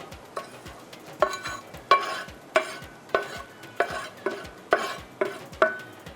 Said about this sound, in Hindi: तो प्याज थोड़ा सा हल्का सा फ्राई करेंगे